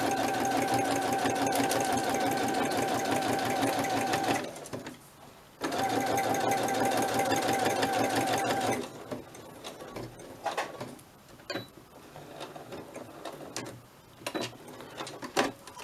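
A sewing machine stitches a soft spine journal cover in two loud, steady runs of rapid rhythmic needle strokes separated by a short pause, then gives way to scattered quieter handling clicks.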